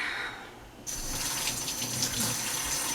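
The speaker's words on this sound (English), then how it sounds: "Little hot water" Water from a kitchen tap, run for a little hot water while making cheesy bacon chicken tenders, gushes on suddenly after a quiet moment and keeps running steadily and close by, with no talking.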